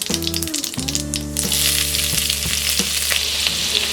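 Teaspoon of cumin and three finely chopped green chilies hit hot oil in a pan for palak paneer tikki, giving a loud, steady crackling sizzle that swells after a brief dip and holds, with a low hum underneath.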